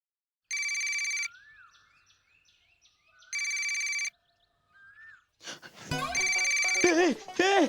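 A phone ringtone trills loudly in two separate bursts with quiet pauses between them, then rings a third time while a voice speaks over it.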